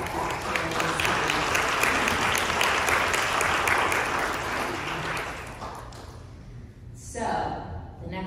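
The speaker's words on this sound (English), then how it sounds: "I just want to take a moment to give them all a round of applause" Audience applause at a meeting, sustained crowd clapping that gradually fades out, followed by a speaking voice near the end.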